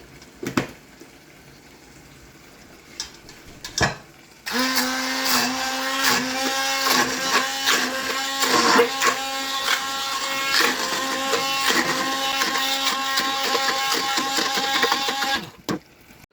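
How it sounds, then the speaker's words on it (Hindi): A hand blender whirs for about eleven seconds as it mashes cooked spinach for aloo palak, starting abruptly after a few soft kitchen clunks and cutting off sharply, loud and close with a steady whine. "अगर हैंड ब्लेंडर हो तो फिर बेस्ट है।"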